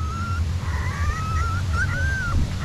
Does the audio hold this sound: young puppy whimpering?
yes